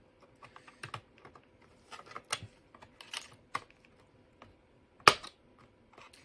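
Plastic pry tool popping the clips of an ASUS laptop keyboard loose: a scattered run of small, sharp plastic clicks and snaps at close range, irregular in rhythm, with one louder snap near the end.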